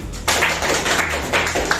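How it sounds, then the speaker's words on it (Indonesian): Classroom applause for a student, a burst of children clapping that starts abruptly and continues in uneven, close-up slaps with a few sharper claps standing out. "Tepuk tangan untuk Dennis."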